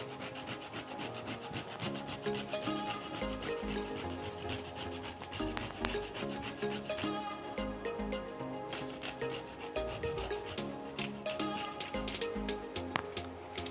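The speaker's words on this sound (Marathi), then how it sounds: "जायफळ जे आहे ते किसून घालायचं आहे." Nutmeg is grated by hand into a rava ladoo mixture, giving a steady rhythmic scraping rasp that repeats close up throughout, fairly quiet.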